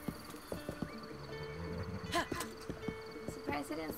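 A horse in the video game Breath of the Wild, with clip-clop hoof sounds, snorts and a whinny amid game effects, under a faint voice.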